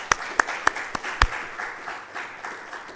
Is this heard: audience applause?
yes